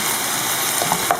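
Purslane sautéing with spices in a pan on the stove for a Moroccan salad, a steady close sizzle and frying hiss with a few faint clinks, no talking.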